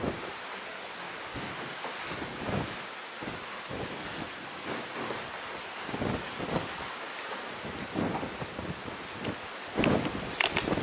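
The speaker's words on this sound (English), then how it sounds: "I know the wind is blowing" Wind buffets a handheld microphone on the deck of the Carnival Horizon cruise ship, booming in uneven gusts over the hiss of the sea below, with no one speaking.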